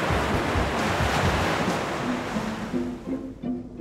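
Steady roar of ocean surf breaking, a dense continuous wash of waves that eases slightly toward the end.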